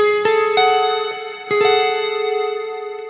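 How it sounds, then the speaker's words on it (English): Bright, ringing guitar chords high on the neck, struck a few times and left to sustain with a slightly effected, shimmering tone. "if I play the same exact notes, but up on the fretboard"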